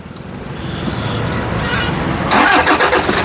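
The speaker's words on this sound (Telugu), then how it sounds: "సింగిల్ సెల్ఫ్లో కార్ స్టార్ట్ అవుతుంది" A 2015 Toyota Fortuner's engine cranks briefly, then catches on the first try and fires up, settling into a loud, steady idle close by.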